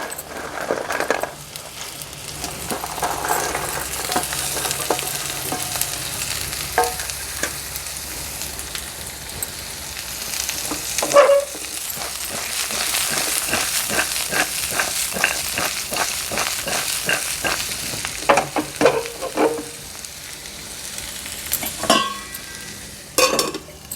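Shelled broad beans fry and sizzle in a pan while a utensil stirs them, with steady hissing broken by repeated scraping and clinking strokes, close and fairly loud, with no talking.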